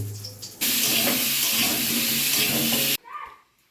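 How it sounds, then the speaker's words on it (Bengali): Vegetables sizzle in a frying pan in a home kitchen, a loud burst of hissing lasting about two seconds that cuts off abruptly, with faint sounds before and after. "সবজি ভাজা"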